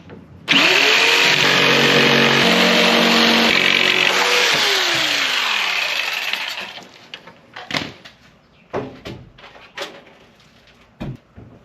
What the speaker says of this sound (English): Let's grab the jigsaw and cut that out.